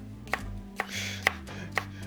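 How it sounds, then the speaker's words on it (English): A knife chops a pepper on a cutting board in a home kitchen, four sharp, evenly spaced thunks about half a second apart, close and fairly quiet with a low hum beneath. "Technically, I'm chopping this pepper upside down."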